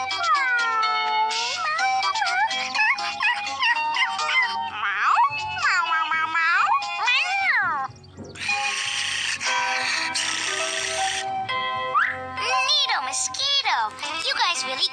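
A cartoon cat meows again and again in high, warbling, drawn-out cries, loud and close, with brief bright tinkling bursts in between and no talk over it.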